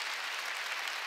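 Congregational applause at a New Year's Eve church service, a dense steady wash of many hands clapping that holds at an even level for about a second, with no voices on top.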